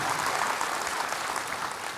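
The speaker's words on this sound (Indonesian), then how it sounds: "Yang bersuka cita sekali lagi berikan tepuk tangan buat Tuhan" A church congregation at a worship service claps together in a brief, dense burst of applause, steady and fairly distant.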